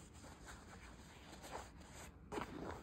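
The zipper on new Express relaxed hyper stretch jeans, heard as several soft, quick rasping pulls, close and faint, in a quiet room.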